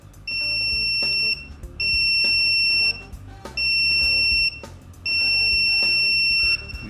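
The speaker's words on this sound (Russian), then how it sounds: "Тут же я могу замкнуть щупы, и мы должны услышать звуковой сигнал." A BSIDE A1 multimeter doing a continuity test with its probes shorted gives four long, loud, high electronic beeps, each about a second long, separated by short gaps.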